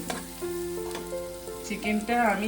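Chicken sizzling and being stirred in a hot pan with spices, a steady close frying hiss broken by scraping stir sounds.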